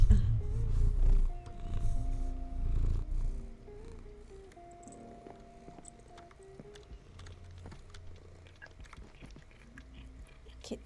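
Spencer, a pet cat, purrs right against a microphone, a loud low rumbling drone that dominates the opening seconds and then softens, with rubbing and handling noises and a brief hint of a meow.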